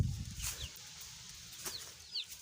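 A hen kept in a farm pen clucks softly in a few short, scattered bursts, fairly close, with a faint rustle and low background noise and no talking.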